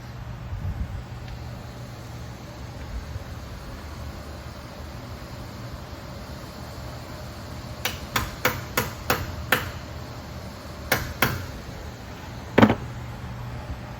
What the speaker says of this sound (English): And I'm going to place my weight at 12 o'clock.